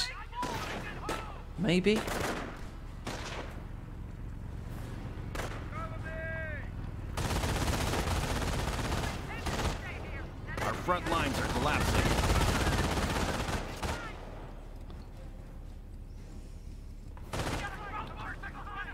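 Mortar and other gunfire in a Company of Heroes 1 match sound as repeated sharp reports and bursts through the clip, with a dense stretch of heavy firing in the middle, under steady commentary.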